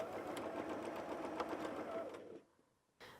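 Sewing machine running steadily as it stitches along the outer edge of a quilt patch at a 2.5 cm mark, a fast continuous whirring hum at moderate volume that stops abruptly near the end, followed by a brief quiet gap.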